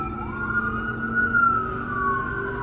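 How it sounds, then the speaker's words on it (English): An emergency siren wails in long rising and falling tones, moderately distant, over a low background hum of traffic at Fisherman's Wharf, Monterey. "Here's a siren."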